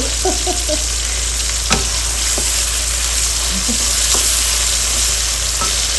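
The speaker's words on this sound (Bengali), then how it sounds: "গ্যাসের চুলাই শাকটা বসাই দিব" Fresh leafy greens, Malabar spinach and bottle gourd leaves, sizzle loudly in a pan on a gas stove, giving a steady close-up hiss with occasional crackles and soft stirring clinks.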